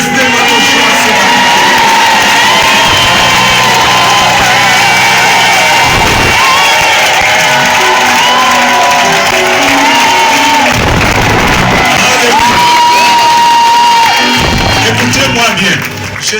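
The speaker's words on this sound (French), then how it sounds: "Nous allons pousser vers l'Éternel des cris de joie pour manifester notre joie ce matin." A church congregation at a morning service lets out loud cries of joy, a dense, sustained roar of shouting and whooping voices that stays close and continuous, dipping briefly a few times before swelling again.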